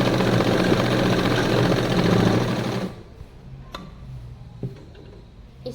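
Sewing machine stitching a belt strip onto fabric, a loud steady whirring run of stitching that stops abruptly partway, followed by a few faint clicks and handling noises.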